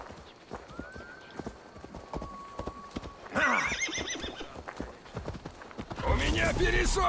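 Horse hooves clip-clop at a gallop in Assassin's Creed Valhalla, with loud neighs and whinnies bursting in midway and near the end over a steady stream of game sound effects.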